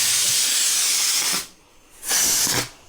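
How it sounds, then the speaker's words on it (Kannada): A pressure cooker whistle releases steam in two loud hissing blasts, the first long and continuous, then a short pause before a second, briefer burst, close by and alone. "ಕುಕ್ಕರ್ ವಿಜಿಲ್ ಬರ್ತಾಯಿತ್ತು"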